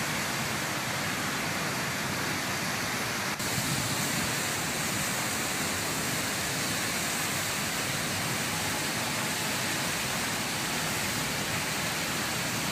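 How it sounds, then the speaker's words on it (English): Bhagirathi river at Gangotri splashing over pinkish, yellow and white rocks, a steady, loud, broadband rush of water that continues unbroken throughout with no voices. "The only noise that is audible here is that of this splashing Bhagirathi river."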